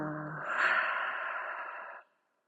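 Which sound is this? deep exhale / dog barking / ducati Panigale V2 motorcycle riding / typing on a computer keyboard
deep exhale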